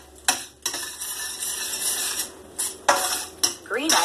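Ham cooking in a pan for green eggs and ham, heard as a steady frying hiss with several sharp clatters of a utensil against the pan, close and fairly loud, with no talking.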